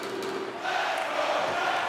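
Arena crowd cheering during an NHL 23 hockey game, a steady broad roar that swells louder partway through and holds, with no voices heard separately.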